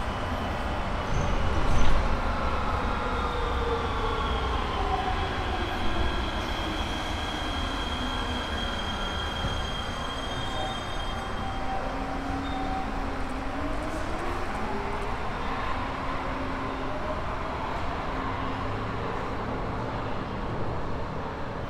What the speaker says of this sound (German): Kurz darauf fährt der Zug weiter in Richtung Fürth.